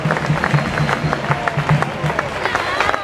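A large audience at an outdoor flashmob dance event in Mataró keeps up dense, steady applause with crowd noise, loud and continuous across the whole stretch.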